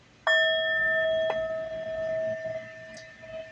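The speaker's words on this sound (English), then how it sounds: "I'm going to ring the bell lightly to clear the energy." A small bell struck lightly once, ringing out with a clear sustained tone that slowly decays, followed by a faint second tap near the end, alone in a quiet room.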